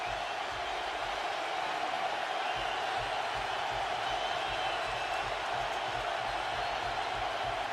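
Steady roar of a football stadium crowd at a 2009 Panthers at Falcons NFL game, a dense continuous wash of distant voices with no distinct cheers, holding level throughout.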